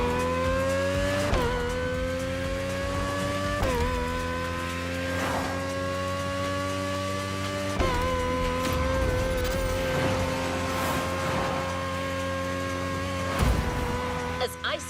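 A concept car's engine in The Crew Motorfest video game drones steadily with repeated upshifts, pitch climbing then dropping several times, loud and close, with faint tire and road noise underneath.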